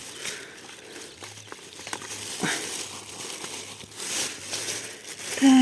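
Quiet, intermittent crinkling and rustling of a plastic bag close by, outdoors in a potato field, with scattered soft crackles and a faint background hum.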